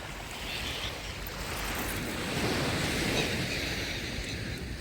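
Black Sea waves in Odesa wash steadily onto a shore on an evening in February with a constant rushing roar, mixed with wind buffeting the microphone, and no voices.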